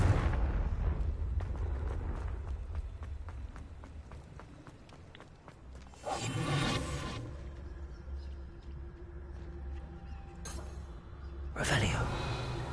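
Confringo fire spells in the video game Hogwarts Legacy burst out in two loud, broadband explosive blasts about six seconds apart, over a rumbling battle background with rapid footstep-like thuds and other game noise.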